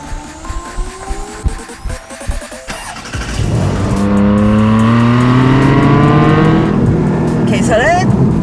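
A Porsche Cayman GTS 4.0 with a naturally aspirated engine and manual gearbox pulls away and climbs through the revs, the engine note rising loud and steady after a quieter start with talk over it.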